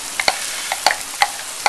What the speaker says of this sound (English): we're going to add this rice, which has been rinsed in water.